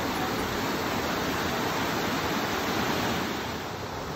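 Cold spring water pours steadily from a tube at Mt Shasta City Park, a close, loud, continuous rushing splash with no letup and a slight drop in level near the end.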